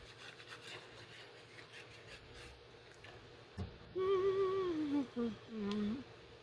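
Card being trimmed down the middle for an inlaid flower journal card, with rough rasping, sawing strokes near the mic, then a louder wavering tonal hum, like a voice, over the final seconds.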